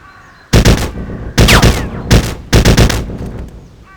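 Four loud bursts of rapid automatic gunfire in the Trespasser video game, fired at a lock at a winter outpost, each volley about half a second long with short gaps between them.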